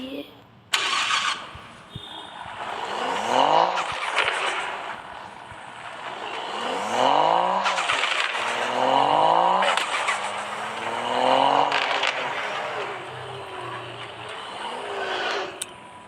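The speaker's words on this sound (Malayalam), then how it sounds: "ഈ കാർ പാർക്കിങ്ങിൻ്റെ ഗെയിം എന്ന് പറഞ്ഞാൽ സൂപ്പർ ഗെയിമാണ്" Car engine in a car parking video game revving and surging in repeated rising and falling sweeps, loud and close, with a voice talking over parts of it.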